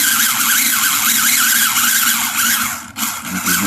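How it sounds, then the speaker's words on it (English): A cheap modified RC car with huge motors braking on a slight downhill, its loud steady motor whine sliding in pitch with a brief dip near the end as the tires skid, with no talking. "so I'm gonna have to get on the brake"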